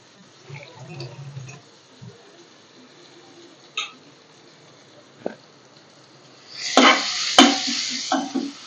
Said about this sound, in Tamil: மட்டன் சுக்காவுக்கு ஆனியன் நல்லா டீப் ஃப்ரை ஆகிடுச்சு